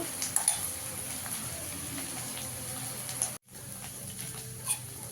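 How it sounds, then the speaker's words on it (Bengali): Kakrol (bitter gourd) mash sizzling softly in a pan on a gas stove, a steady low crackle with a few scraping stirs, briefly cut off near the end before it resumes. "আর একটু ভাজা ভাজা করে নেব।"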